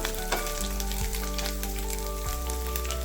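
Coconut pieces roasting in hot oil in a pan for tomato chutney, a steady loud sizzle and crackle with a few faint stirring scrapes, close up and without talk.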